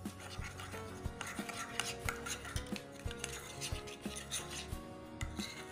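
A coffee face pack made with rose water being mixed in a bowl, with quiet repeated scraping and clinking of a spoon against the bowl in an uneven rhythm, close and faint.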